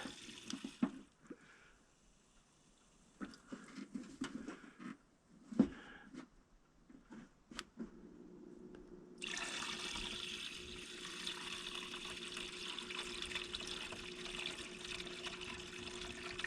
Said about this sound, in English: That'll move some coolant now.